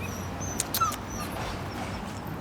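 A reactive dog near a park gives a few brief high whimpers and a short yip against steady outdoor background noise.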